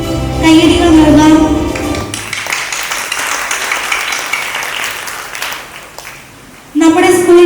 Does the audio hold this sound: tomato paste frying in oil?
no